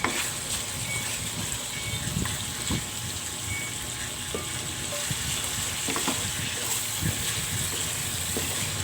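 Pork frying in a pan for okra and string bean adobo, a steady close sizzle with occasional stirring scrapes and clicks running throughout, no one talking.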